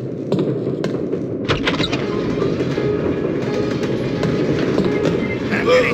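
A train rolls along the tracks in The Polar Express video game, a continuous rumble with rhythmic clicking and clacking of the wheels, fairly loud and steady for the whole stretch.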